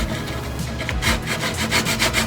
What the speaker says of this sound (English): I think I will sand this by the hand